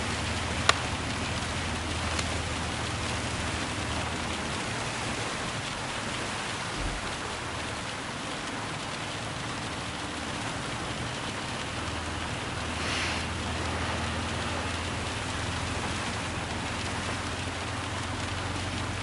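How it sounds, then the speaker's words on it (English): Steady, dense rain hiss from the racing game Gran Turismo 7 in VR, a wet-weather drive. It stays even and moderately loud throughout, with a faint thump early on and no voices. "I could feel the wetness of the rain"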